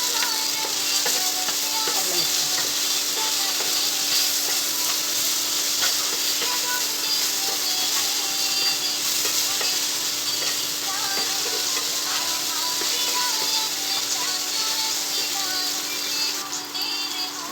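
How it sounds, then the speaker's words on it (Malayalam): Okra fries in a pan with turmeric and salt, a dense steady hiss and sizzle held close for a long stretch, with occasional faint clinks and stirs and no talking. "ഈ വെണ്ടക്ക ഫ്രൈ ആകണമെങ്കിൽ മഞ്ഞൾപ്പൊടി ഉപ്പിട്ട് കൊടുക്കട്ടോ"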